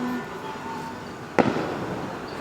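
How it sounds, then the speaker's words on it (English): Christmas fireworks in the Cayman Islands, heard as a single distant burst standing out from a steady low background hum. "Yeah, the fireworks now."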